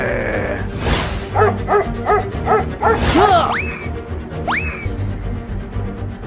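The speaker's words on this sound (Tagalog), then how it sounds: "Ah! May aso!" A dog in a game scene barks repeatedly, a run of sharp yips followed by rising whimpering howls, loud and close, with little else beneath it.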